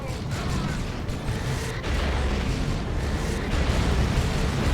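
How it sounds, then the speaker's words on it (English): Cyclone missile launcher firing in the Dawn of War 2 strategy game, a dense rumbling barrage of launches and blasts running continuously over a busy battlefield din, with no clear gaps between shots. "Cyclone missile launcher."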